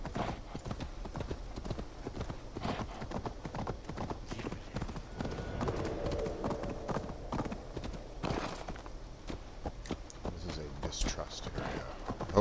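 Horse hooves in the video game Assassin's Creed Valhalla, a steady rapid clip-clop while riding through a settlement, faint and continuous beneath a voice.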